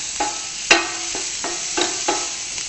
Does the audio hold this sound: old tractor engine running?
no